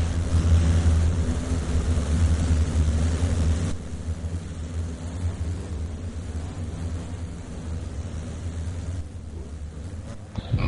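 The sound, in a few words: midget race car engines in a dirt racing video game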